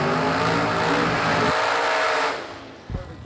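A Chevy II race car accelerates hard at a drag race, its engine roaring loud and steady before dropping away sharply as it pulls off into the distance.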